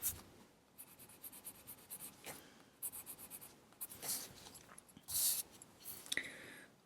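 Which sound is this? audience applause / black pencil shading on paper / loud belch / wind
black pencil shading on paper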